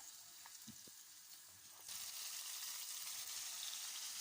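Frozen porcini mushrooms drop into a pan of frying onion and carrot, and the soft background sizzle jumps to a loud, steady, close frying hiss partway through.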